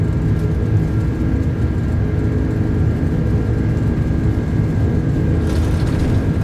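Airbus A330 jet engines run at takeoff power in a flight simulator, a loud, steady broadband roar with a deep low rumble that holds constant throughout.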